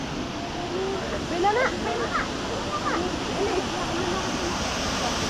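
Krangsuri waterfall in Meghalaya pours with a steady, broad rush of falling water, fairly close and constant throughout, with faint distant voices of visitors mixed in.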